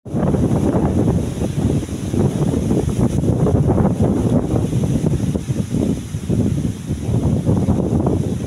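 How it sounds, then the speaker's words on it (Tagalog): Strong, gusty wind batters a campsite on a moto camping ride, a loud continuous buffeting roar with surging gusts close against the microphone. "Sobrang lakas ng hangin."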